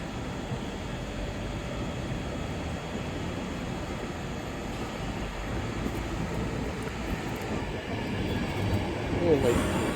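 A Class 360 electric train, unit 360116, pulling out of Colchester station, with a steady low rumble and rising hum that gradually swell in loudness against a busy platform background.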